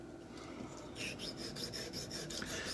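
A straight razor bevel, a Wade & Butcher, is ground on diamond plates: quiet, close, rhythmic rasping strokes, a soft scrape first and then a series of brighter, regular back-and-forth swipes.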